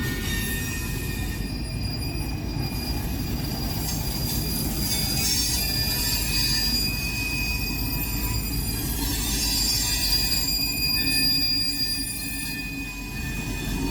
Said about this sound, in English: what they are doing here is they're pushing these cars in here for CSX to pick up from Norfolk